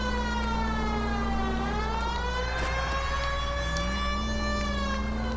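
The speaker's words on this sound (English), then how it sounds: "I really don't know why I keep the freaking siren on" Police car siren in the 1940s Los Angeles crime game L.A. Noire, a loud continuous wailing tone rising and falling slowly over a steady engine rumble, heard alone without talk.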